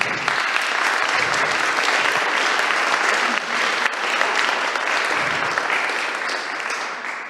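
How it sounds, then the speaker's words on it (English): Audience applause for a startup team at a Demo Day for an accelerator batch, a dense, steady wash of many hands clapping that stays loud and close for the whole stretch before easing slightly at the end. "So big round of applause to them."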